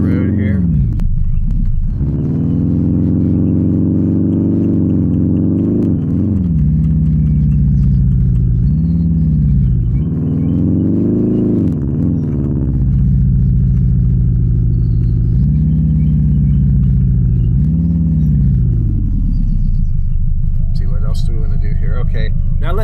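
Car driving on a road in the Outerra simulator, its engine note repeatedly rising and falling as it speeds up and eases off, loud and close throughout.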